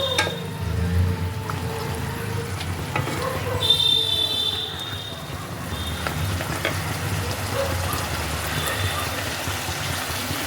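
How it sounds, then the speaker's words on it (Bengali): Katla fish heads are stirred into bottle gourd in a pan, giving a steady low sizzle with soft scraping and wet shifting sounds throughout, close by and moderately loud, with a brief brighter hiss partway through. "মাছের মাথাগুলোকে লাউয়ের সাথে ভালো করে একটু মিশিয়ে নেব"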